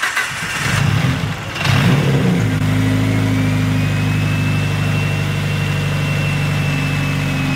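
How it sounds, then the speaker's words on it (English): An 800HP big-turbo Mitsubishi Evo 9 fires up with a sharp cranking burst, then settles into a loud, steady idle with a thin rising turbo whistle sustained above the engine drone. "that spool sounds crazy on startup"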